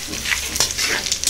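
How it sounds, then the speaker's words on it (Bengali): Dried chili, bay leaf and panch phoron spitting and sizzling in hot ghee, a short burst of close, steady frying crackle with a few sharper pops, no voices. "শুকনো লঙ্কা তেজপাতাটা ভাজা হয়ে গেছে, দিয়ে দেওয়া হলো 5 ফোড়ন।"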